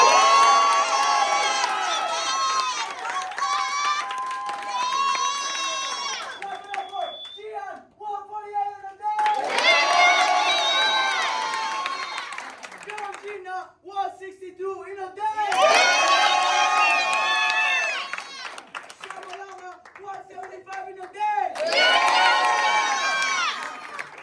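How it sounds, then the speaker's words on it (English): A crowd at a marketing group motivation event claps and cheers in loud bursts, with whoops and shouts, breaking off between waves where a voice speaks, then surging again. "So clap it up for Cindy 135 in a day."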